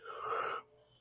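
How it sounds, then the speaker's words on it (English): A drawn-out yawn from a race commentator, a soft breathy exhale that fades after about half a second into quiet room noise. "Sorry for the yawn."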